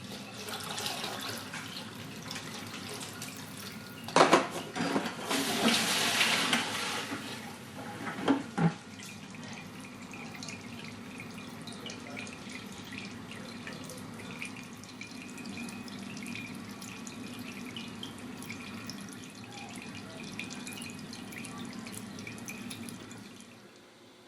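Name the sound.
distilled alcohol dripping through a carbon reflux filter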